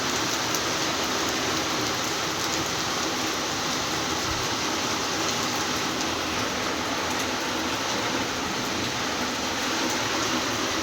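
Steady rain falls on potted flowering plants in a rooftop garden, making a dense, continuous hiss of drops at an even level with no pauses.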